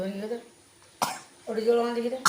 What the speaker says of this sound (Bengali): এমনিতে একটু কাশি কাশি হচ্ছে